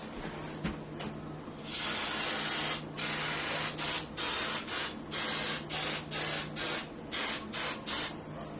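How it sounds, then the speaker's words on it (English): A cooking spray aerosol can hisses in a long spray over a sink, then in a rapid series of short bursts with brief pauses between, close by and crisp. "I'm going to just spray this over the sink."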